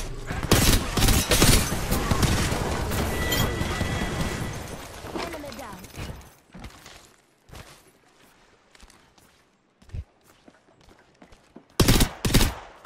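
Rapid bursts of automatic gunfire from a video game's Three Strikes mode, dense and loud for several seconds, then thinning into scattered sharp shots with quiet gaps and a final loud cluster.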